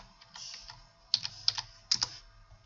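Close, crisp keystrokes on a computer keyboard while a captcha is entered, arriving in short bursts of several quick clicks with brief pauses, no talk.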